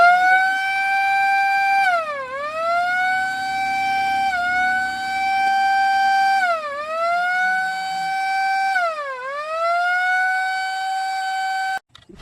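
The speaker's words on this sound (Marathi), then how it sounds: "हा सायरनचा आवाज ऐकला की जरा सावधच व्हा, कारण हा सायरन तुम्हाला तुमच्या परिसरात बिबट्या असल्याची सूचना देतोय।" A forest department leopard warning siren in a Satara village wails loudly and near, its tone swooping down and climbing back up in repeated cycles before cutting off abruptly.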